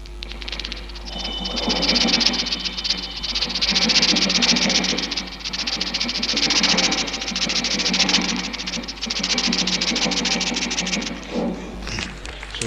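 A steam engine train chugs steadily, heard as from the rear carriage, with a dense mechanical rattle and rhythmic clatter over a low rumble that persists throughout, fading slightly at the end.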